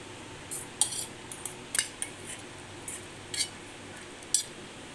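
A spoon mixing grated bottle gourd into two or three big spoonfuls of thick curd for a raita, heard as scattered light clinks and taps against the bowl over a quiet background.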